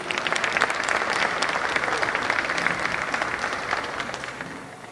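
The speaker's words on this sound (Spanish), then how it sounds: "Así que para ellos un muy fuerte aplauso." An audience at a book fair talk on the future of work applauds the two speakers, dense sustained clapping that stays close and even before slowly tapering off.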